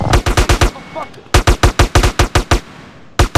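Minigun firing in the video game GTA San Andreas, loud, dense bursts of rapid gunfire broken by brief pauses and ending in a short final burst.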